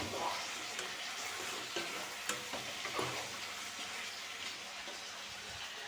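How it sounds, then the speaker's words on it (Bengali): Goat meat with turmeric fries in a pan under a soft, steady sizzle, with occasional stirring clicks and scrapes; fairly quiet and close. "ভাজি দিলোঁ মাংসখিনি"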